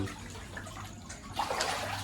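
Floodwater rushes past houses in a flooded Jharia village near Rourkela, a steady close wash of flowing water that grows louder and splashier toward the end, with no one speaking.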